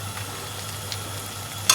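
Mooli paratha frying in olive oil in a pan, a soft continuous sizzle with faint crackles and one brief sharper spatter near the end.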